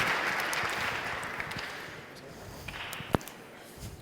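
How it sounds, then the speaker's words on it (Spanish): Audience applause at a DevFest tech conference talk, a steady wash of clapping that gradually thins out, with one sharp louder clap near the end. "Así que un aplauso para él."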